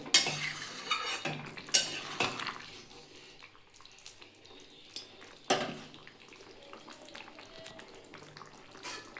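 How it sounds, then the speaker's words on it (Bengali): A spoon gently stirs a chana dal fritter curry with a little ghee in a pan, soft scraping strokes and light clinks over a low simmering hiss, fairly quiet and close with no talking. "আলতো করে একটু নেড়ে দেবো"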